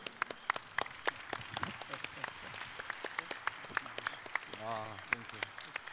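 Audience applause at a plenary session of the ICLEI World Congress 2015 in Seoul, a fairly faint, steady patter of scattered claps from a crowd lasting throughout, with a brief voice near the end.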